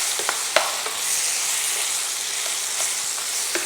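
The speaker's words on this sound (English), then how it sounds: "So we will allow this to cook for some time in ghee." Round pieces of ripe native nendran banana cooking in ghee in a pan, a steady close sizzle broken by a few soft stirring taps, with no talk.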